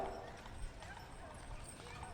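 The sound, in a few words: horses clip-clopping in a parade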